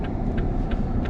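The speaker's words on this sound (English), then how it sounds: "there comes a car down there" A car passing along a street, heard as a steady, fairly loud rumbling roar that holds for the whole moment with no talking over it.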